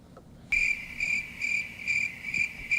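Crickets chirp in steady repeated bursts, a sharp high trill that starts abruptly and pulses evenly against a quiet low background, with no talking.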